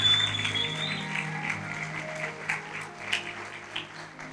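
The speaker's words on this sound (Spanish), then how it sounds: "Apláudale al Señor si lo va a aplaudir" A church congregation claps during a Spanish-language worship service, soft, scattered applause with uneven bursts, heard at a distance under a faint sustained organ or keyboard tone.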